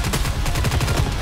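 Rapid automatic gunfire from the shooter game Goddess of Victory NIKKE, a steady rattling stream of close, loud shots with no talking.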